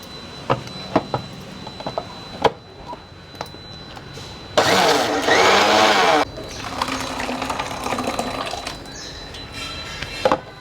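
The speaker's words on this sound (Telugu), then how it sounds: "అట్లా మొత్తం మిక్సీ చేసి మీకు చూపిస్తా" Scattered clatters and knocks, then an electric mixer grinder blending with a little water roars for about two seconds before stopping, followed by sloshing and handling noises.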